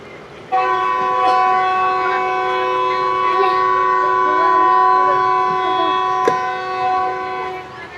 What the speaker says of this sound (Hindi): ये बजा रहा है ना दिल खोल के विसल